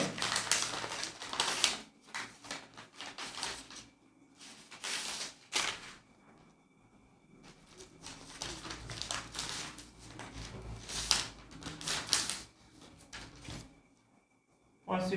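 Strips of paper tape torn and pressed down while closing a shoulder dart on a paper pattern, with repeated crisp ripping and crinkling bursts between quieter handling sounds, close to the microphone.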